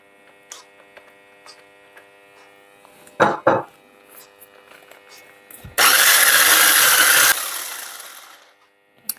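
An electric mixer whips a buttercream mass for the Ptashyne Moloko cake, giving a loud, close motor whir for a couple of seconds before winding down, preceded by brief clatters and a soft hum.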